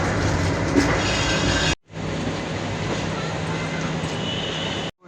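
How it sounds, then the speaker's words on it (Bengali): The Jagannath Express rolls into Shalimar station, heard from on board as a loud, steady rumble and rattle of the coaches with faint wheel clatter, cut off briefly and then resuming. "স্টেশনে ট্রেন ঢুকছে"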